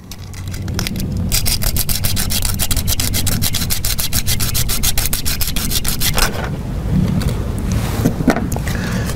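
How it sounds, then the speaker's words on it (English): Steady, loud abrasive scrubbing cleans the ground cable ends and mounting nut on a 2010 Jeep Patriot, a continuous rhythmic rasping that runs for most of the stretch and eases near the end. "So we're just going to clean these ends up, and then we want to clean where it mounts."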